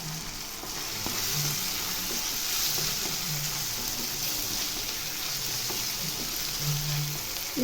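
Adamant creeper pieces fry steadily in hot oil for a tamarind kuzhambu, a continuous close sizzle with faint stirring scrapes throughout and no talking.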